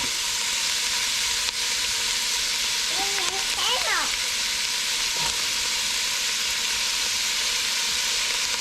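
Pepper dropped into a hot pan for cabbage soup sizzles and fries steadily from start to finish, with a brief clatter of stirring midway, under a faint background voice.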